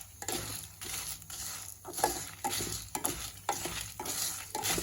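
Red chilies fry in a pan for a turai chutney, sizzling under repeated rhythmic stirring scrapes of a spatula, close and fairly quiet, with no talk.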